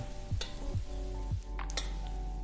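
Duxelles with onions sizzle steadily in a pan, a constant close frying hiss punctuated by a few periodic scraping stirs of a utensil against the pan.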